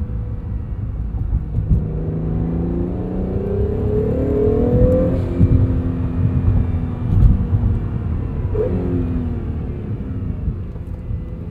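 A 2022 Acura NSX Type S driving on a track, engine whir and rumble rising as it accelerates, with rising and falling tones of turbo and shifts, loud and steady with no talk.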